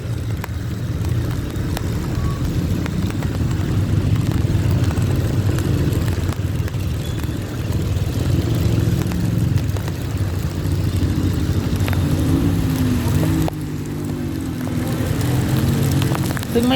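A motorbike rides along a road in Thailand on the way to refuel, its engine drone and wind rumble loud and steady from close by, holding nearly constant for the whole stretch.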